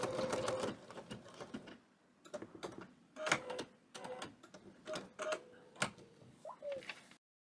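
A sewing machine runs a triple stitch in thick thread on wool appliqué, with the top tension lowered and a long stitch length. Close mechanical ticking comes in several bursts separated by short pauses, then stops.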